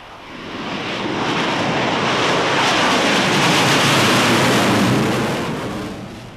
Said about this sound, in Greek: Phantom F4, ένα μαχητικό αεροσκάφος Θρύλος